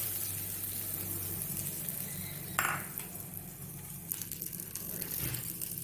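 Hot ghee tadka with degi mirch poured over paneer gravy in a home kitchen, giving a soft sizzle with a sharp hiss as the oil hits, plus light pan and spoon clatter, close up without talking.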